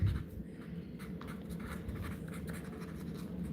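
A pen scratches steadily on paper while a matrices math problem is written out by hand, a faint, continuous close-up rasp with no talking.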